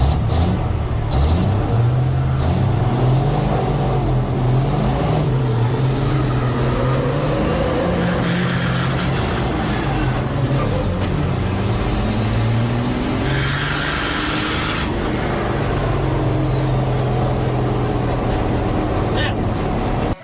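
The Beast, a 4,000 horsepower truck, drives with a heavy, roaring engine that swells and fades through repeated revs and gear changes, loud and continuous for about twenty seconds.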